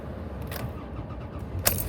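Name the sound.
car engine starting when the key is turned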